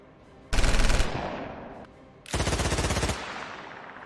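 Tank gunfire at a Titan in a tabletop wargame battle between dwarves and a machine cult, two loud close bursts of rapid automatic shots, each about half a second to a second long, with quiet gaps between.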